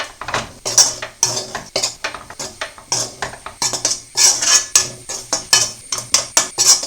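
A spoon scrapes and clinks against a pan while chilli powder and garam masala are stirred in, giving a rhythmic series of sharp metallic taps and scrapes, close and clear.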